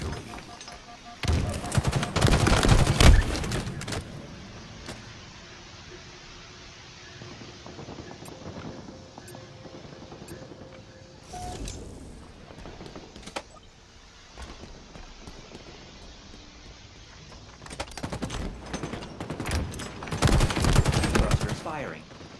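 Gunfire in the video game Halo, two loud close bursts of rapid shots at the start and end with quieter scattered shots between, no talking.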